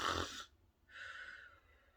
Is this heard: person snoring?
yes